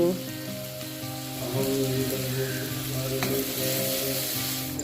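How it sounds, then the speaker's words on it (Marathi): Chopped tomatoes hitting finely chopped onion already fried to a pink-golden shade, a steady close sizzle with light stirring scrapes throughout. "कांदा बारीक चिरलेला आहे आणि छान गुलाबी रंगावर तळलेला आहे. मी आता घालत आहे टोमॅटो."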